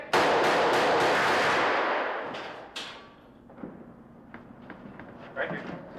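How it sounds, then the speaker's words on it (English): Squib bullet hits on a film set, rigged to burst blood from an actor's chest: a loud, dense crackling burst of rapid bangs for about two seconds, trailing off into a few scattered pops and thuds with faint voices. "that's how much blood we'd use with 3 or 4 of the bullet hits to get the blood gushing and spurting off the chest cavity"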